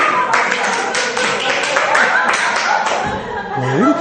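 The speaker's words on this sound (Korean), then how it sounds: "왜 이렇게 박수를 쳐?" Live audience clapping during a theology lecture on Barth's dogmatics, a burst of handclaps and a few chuckles over a murmuring room, with a voice speaking near the end.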